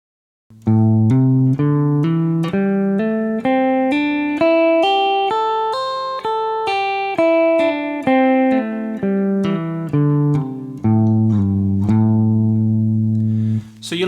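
Clean guitar plays a smooth pentatonic phrase using hammer-ons, notes climbing and falling in a steady stream before settling on a long held low note, close and alone.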